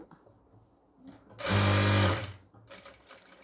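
A sewing machine stitches a pleated nightie in a single loud, close burst of about one second, with a quieter room before and after.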